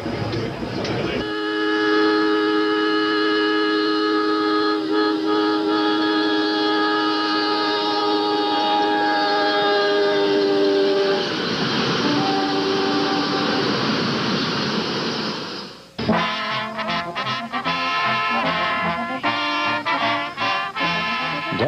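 A South Shore Line passenger train sounds a long, loud blaring horn as it approaches, then cars rumble and clatter rhythmically past at close range.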